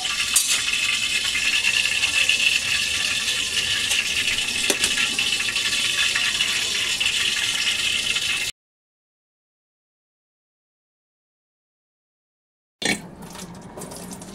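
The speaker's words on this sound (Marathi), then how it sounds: "पाणी नितळायला ठेवूया।" Water drains and trickles steadily from freshly washed, chopped coriander for about eight seconds, then the sound cuts to silence and briefly returns near the end.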